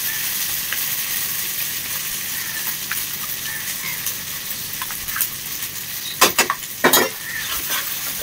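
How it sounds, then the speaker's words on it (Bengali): Ginger paste stir-fried in a pan for a homemade Bengali chicken biryani, a constant sizzle with spatula scrapes and a cluster of sharp metal clanks near the end, no voices. "আমি কিন্তু প্রথমে আদা বাটা দিয়ে একটুখানি এটাকে নেড়ে নিই"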